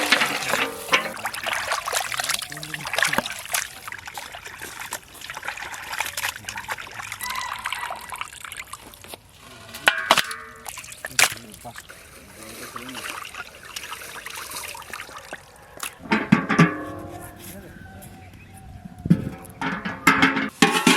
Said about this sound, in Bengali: আমরা আজকে চিকেন নিয়ে এসেছি, ধুয়ে নিচ্ছি পরিষ্কার করে।